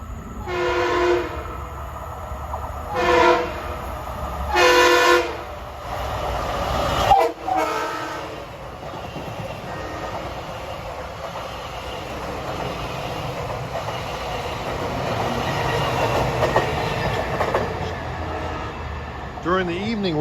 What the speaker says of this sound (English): approaching now is train 1056 from Penn Station to Ronkonkoma. Local train with those 1980s built Bud M3s